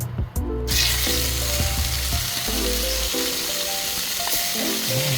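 Marinated chicken for an adobo-style dish sizzles and fries in a hot pan. The crackling is loud, dense and continuous throughout, with occasional pops and no talking.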